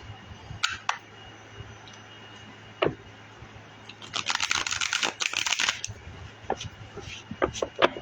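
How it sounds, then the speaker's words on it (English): Playing cards being shuffled, a ruffling burst of rapid crisp flutters around the middle, with scattered clicks and taps before and after under a faint steady hum. "Trying to get these cards shuffled here."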